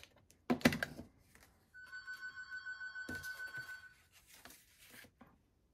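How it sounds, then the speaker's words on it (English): An electronic phone ringtone chirps in a quick repeated pattern for a couple of seconds in a quiet indoor room, preceded and followed by brief handling and paper noises at a card-making table. "Sorry, my phone was ringing"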